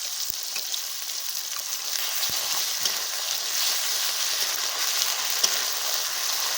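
Chopped tomatoes and ginger-garlic paste fry in a pan for a chicken leg masala curry, giving a steady, close hiss of sizzling oil with occasional faint stirring taps.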